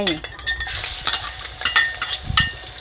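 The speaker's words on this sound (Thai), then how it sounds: "เมื่อน้ำมันร้อนแล้วนะ ให้เพื่อนๆค่ะ ใส่กระเทียมลงไป" Garlic frying in hot oil in a wok, a light sizzle broken by quick scraping stirs and clinks of a metal spatula against the pan, close up and fairly busy.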